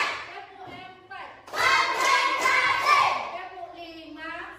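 Schoolchildren in a classroom do the 'tepuk empat' counting clap, a short burst of group hand claps mixed with their loud chanting voices, then fading into the teacher's speech.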